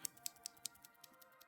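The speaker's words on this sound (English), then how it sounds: "this is what the switch that's in that white keyboard sounds like" Mechanical key switches on a white keyboard click in a steady, quick series of sharp ticks, about five per second, faint and close with no voices over them.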